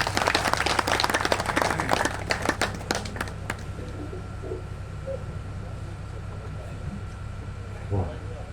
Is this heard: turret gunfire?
no